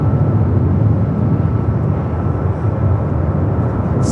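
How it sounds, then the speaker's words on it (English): A Kalitta Air cargo jet arriving at LAX roars steadily overhead, a broad continuous engine rumble holding at near-constant loudness throughout, with no voices. "that Coletta Air Queen coming up from Anchorage, arriving at 25 left"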